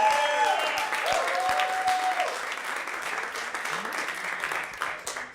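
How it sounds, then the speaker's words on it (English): A crowd at a League of Legends tournament applauds steadily for several seconds, with a few voices and whistles rising over the clapping. "round of applause, guys"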